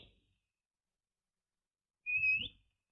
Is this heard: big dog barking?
no